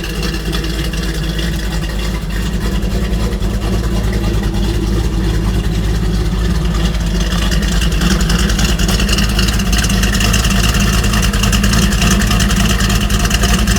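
A Dodge Challenger T/A 340 Six Pack tribute car runs after a cold start, its V8 holding a loud, steady, rumbling idle with a rough low throb that builds slightly louder toward the end.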